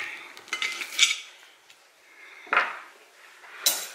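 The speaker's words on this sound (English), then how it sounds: "I'll just cut me a piece off real quick." A knife cutting a piece of steak on a plate, with a few scattered scrapes and clinks of cutlery against the dish separated by quiet pauses.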